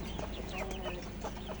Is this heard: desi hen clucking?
yes